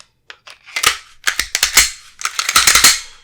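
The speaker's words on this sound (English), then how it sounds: "Slide goes right back on the frame" Springfield Armory Echelon 4.0C pistol slide being fitted back onto its frame after the barrel and recoil spring go in: a close, crisp run of metallic clicks, scrapes and snaps, with no talking.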